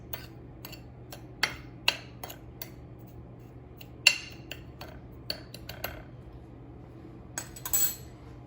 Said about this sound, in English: I will mix sugar and cinnamon together